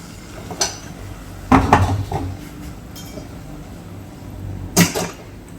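Iron kadai, a cast iron wok, handled in a kitchen while cooking Kerala kaaya mezhukkupuratti, with a few sharp metallic clanks and scrapes, one cluster early and another near the end, otherwise quiet.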